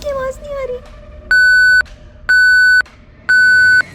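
Three loud, steady electronic phone beeps, each about half a second long and evenly spaced, sound as a call's signal drops, after a brief stretch of quieter voice-like sound.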